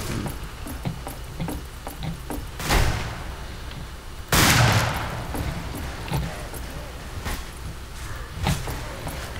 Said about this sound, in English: I'm in the middle of a gunfight